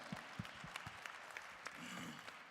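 Scattered applause from a small audience at a Christmas keyboard gathering, a few close claps and cheers standing out over a steady patter of hand claps that fills the whole stretch.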